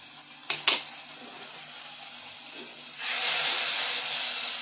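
Ginger dropping into melted butter in a pan, a couple of sharp clinks and then a steady hissing sizzle that rises and holds near and fairly loud.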